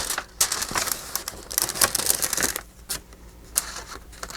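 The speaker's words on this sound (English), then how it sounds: "And then I'm going to cut this extra piece off here." Scissors snipping through junk mail envelope paper, a series of sharp crisp cuts and rustles close by, irregular and quiet, with no talk.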